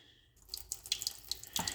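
A drinking water faucet on a well water system runs close by, a steady splashing stream with uneven spattering bursts after a quiet start.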